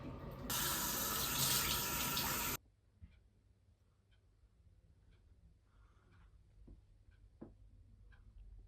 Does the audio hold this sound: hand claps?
no